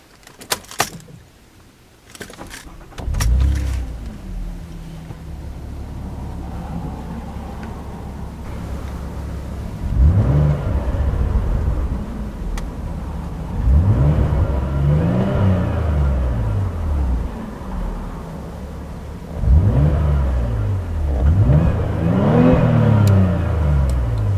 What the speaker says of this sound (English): So now we'll do the exhaust clip, and we'll be doing it twice.